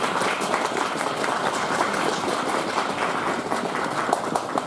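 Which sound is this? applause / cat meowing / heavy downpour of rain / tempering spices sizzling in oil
applause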